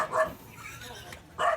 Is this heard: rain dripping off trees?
no